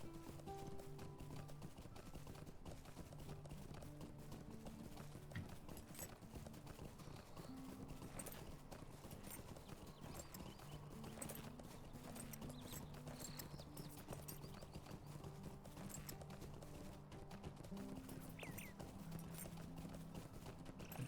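Quiet, steady clip-clop of horse hooves galloping in the Lord of the Rings Online video game, a rapid continuous rhythm with a faint whinny and no talking.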